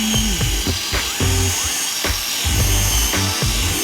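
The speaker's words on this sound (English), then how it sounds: "Get your drill, pop a depth stop on it if possible." A power drill with a blunt bit whines and bogs in short bursts, starting and stopping repeatedly at close range, with rough grinding as the bit bores into wood.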